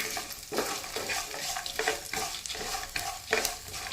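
Dry spice masala is stirred and roasted in a pan for an eggplant and tomato sabzi, with a spatula scraping in a regular rhythm of about two strokes per second over a soft sizzle, close and clear.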